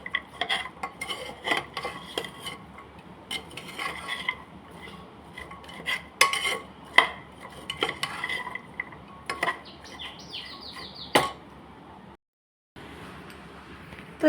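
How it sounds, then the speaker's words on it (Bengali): Utensil scraping and clinking against a pot as an oil-free chickpea dish is stirred and mixed, with irregular close-up clatters and scrapes, then a brief silent gap near the end. "তো এটাকে খুব ভালো করে নেড়ে মিশিয়ে নিয়েছি"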